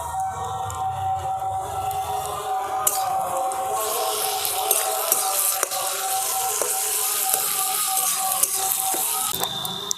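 Ground ginger-garlic paste hits lightly fried onions in a hot pan for village-style chicken, raising a steady, loud sizzle with occasional scrapes and clicks throughout.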